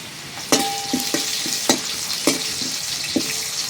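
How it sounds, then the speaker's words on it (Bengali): Masoor lentils and sliced mango fry in a pan with a constant sizzling hiss, broken by several sharp metallic clinks of a spoon stirring against the pan, close up and fairly loud. "ডালটা ভালো করে ভাজা হয়ে গেছে"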